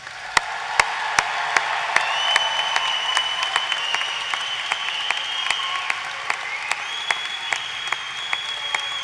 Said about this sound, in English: How about a round of applause for the class of